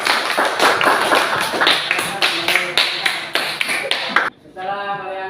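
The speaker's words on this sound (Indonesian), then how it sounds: "Silakan aplaus temannya dulu" A classroom of students applauding their classmates, dense overlapping claps for about four seconds before it stops abruptly, with a short tonal sound after.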